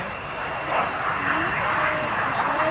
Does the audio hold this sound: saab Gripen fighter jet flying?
yes